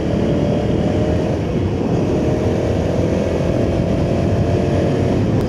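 Royal Enfield Himalayan 450 motorcycle ridden off-road, a continuous loud engine drone mixed with heavy wind rush, steady and close throughout with no pauses.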